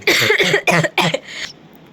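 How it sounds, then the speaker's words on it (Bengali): A person coughs three or four times in a quick, harsh burst close to the microphone, followed by a softer trailing breath. "ওর কথা শোনার ভেতর দিয়ে কাশি এসে গেছে সত্যিকারে"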